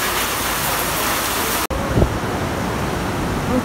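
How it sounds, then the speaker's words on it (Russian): Heavy tropical downpour at Dalawella Beach in Sri Lanka, a dense, steady roar of rain close by with a brief cut midway and faint thuds underneath. "Время дождя, тропического ливня"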